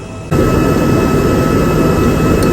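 An auxiliary diesel generator engine runs steadily in a ship's engine room, a loud, constant low rumble with a continuous drone that starts abruptly and holds without change throughout.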